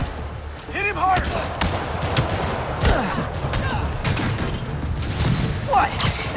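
Rocket fire and booming blasts in the Spider-Man Remastered video game, sounding as repeated bursts and impacts over a busy mix of effects and music, with voices talking throughout.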